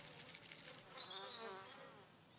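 A soft, steady buzzing of many bees, with one or two passing close by, fairly faint overall.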